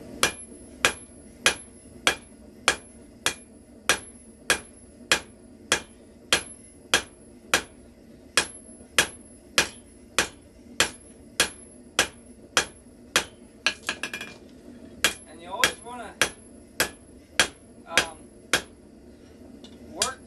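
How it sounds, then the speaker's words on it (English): Steady, evenly spaced ringing blows of a four-pound forging hammer on steel, about one strike per second and sharp and close, with a brief scrape of shuffling noise partway through. "I'll use my bigger hammer to start pounding my shape out"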